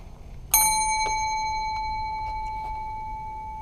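A hand bell in a public office in Annapolis is struck once, giving a bright metallic ding that rings on with a long, slowly fading sustain over faint room noise.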